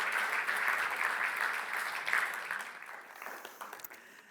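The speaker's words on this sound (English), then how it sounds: "So please join me in welcoming Catherine Ashton." A lecture audience applauds steadily to welcome Catherine Ashton at the John Antcliffe Memorial Lecture on UK foreign policy. The dense, close clapping holds for a few seconds, then thins and fades.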